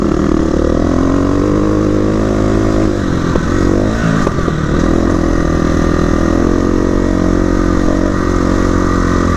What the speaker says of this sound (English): You hear the harmonics of that exhaust?